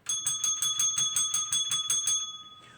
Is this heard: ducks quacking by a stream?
no